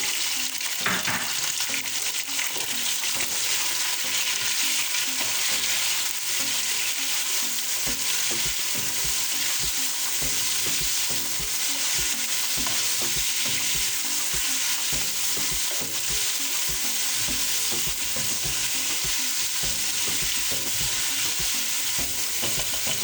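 Ginger garlic paste frying in a pan for a long unbroken stretch, with a loud, bright, steady sizzle and occasional faint stirring scrapes underneath, heard close with no voices.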